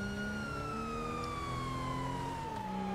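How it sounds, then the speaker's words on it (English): A police car siren in Grand Theft Auto wails steadily and loudly, its tone gliding slowly downward across the whole stretch with no talking. "let me turn off my sirens"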